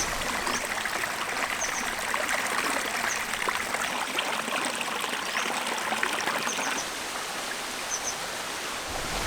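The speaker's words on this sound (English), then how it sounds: "just listening to the water burbling over the rocks" A stream in the Brecon Beacons burbles over rocks near a waterfall, a steady, close rush and trickle of water with faint high chirps scattered above it.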